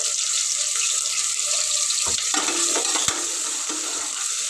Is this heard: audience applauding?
no